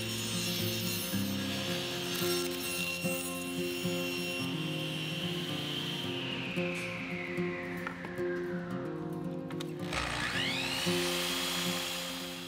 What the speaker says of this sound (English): I've lowered the blade to 1/4 inch and adjusted the fence to 1/4 inch to complete the rabbet.